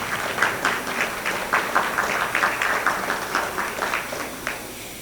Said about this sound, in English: give a round of applause to these students for all they've done